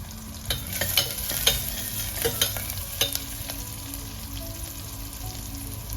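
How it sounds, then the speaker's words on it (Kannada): Onions sizzle in a hot pan for veg ghee biriyani, with irregular scraping and clicking strokes of a stirring spoon over a steady frying hiss, close and alone. "ಈರುಳ್ಳಿ ಒಂದು 30 ಸೆಕೆಂಡ್ ಆಯಿತು. ಇನ್ನೊಂದು 30 ಸೆಕೆಂಡ್ ಫ್ರೈ ಮಾಡ್ಕೊಳ್ಳೋಣ."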